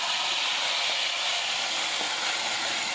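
Red chilli tadka in hot oil poured over nihari, a steady loud hiss of sizzling across the whole moment with no talk over it.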